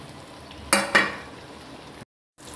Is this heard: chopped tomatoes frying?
yes